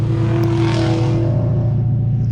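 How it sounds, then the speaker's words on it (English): A loud, deep engine rumble from a car fitted with test pipes swells close by and then fades slightly as it passes, brief and continuous. "y'all fixing to hear a car come by."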